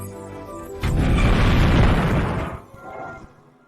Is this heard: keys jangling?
no